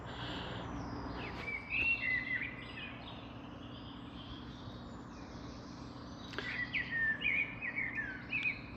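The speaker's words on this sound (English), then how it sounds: "I think today's film is going to be accompanied from start to finish by fabulous birdsong." Birdsong fills spring woodland gardens carpeted with bluebells: two bursts of bright, warbling calls rise over a steady soft outdoor hum, moderately distant and with no talking.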